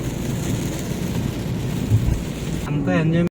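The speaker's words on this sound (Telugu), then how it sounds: "ఒకేసారిగా పెద్ద వర్షం అయితే స్టార్ట్ అయిపోయింది" Heavy rain falls on the road near Narsapur in a dense, steady roar of drops, close and loud, with a short tonal sound like a voice cutting in just before it stops.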